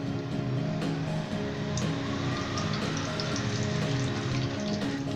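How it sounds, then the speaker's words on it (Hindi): A cup of oil hits a hot karahi for Lahori mutton karahi, producing a loud, dense, continuous sizzle and spatter that holds steady throughout without talk. "कढ़ाई गर्म हो चुकी है, अब इसके अंदर 1 कप ऑयल डालेंगे"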